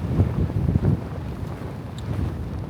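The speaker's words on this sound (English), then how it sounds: "I'm watching the sand move now. It's so windy." Strong desert wind in Tunisia blows and shifts the sand, buffeting the microphone with low, gusty rumbles that rise and fall in uneven bursts, with no voices.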